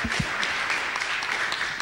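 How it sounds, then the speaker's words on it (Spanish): An audience applauds at a conference panel on internet and human rights, giving a short burst of dense, steady clapping from many hands that fills the room. "Un aplauso para Francisco, por favor."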